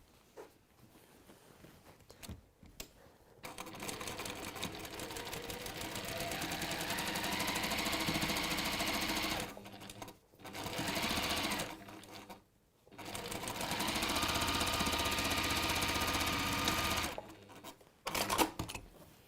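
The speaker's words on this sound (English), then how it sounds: "then off we go and stitch the other side of the base on" Sewing machine stitching the base onto a textile piece, in several sustained runs of rapid, even mechanical whirring broken by short pauses, loud and close.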